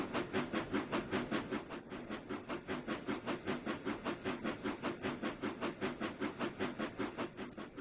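Steady rhythmic clickety-clack of a train rolling on rails in the Trainz 2019 rail simulator on the C&O Hinton route, with an even, repeating beat of wheel clicks over a hissing rumble and no talk.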